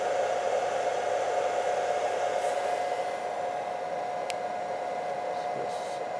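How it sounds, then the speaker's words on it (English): An ACM604V60 400 W servo motor drives an x axis while pulling a 100 kg load, making a continuous, loud, even whirring rush with no breaks. "So that's 100 kilos that this little motor, this little 400 watt motor's pulling."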